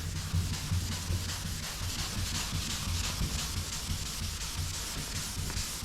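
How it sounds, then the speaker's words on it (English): Abrasive scuffing of a car body quarter panel to prepare it for epoxy primer: a continuous rough rubbing that keeps a steady level throughout, close up, with no voices. "So we'll give it a really good scuff down."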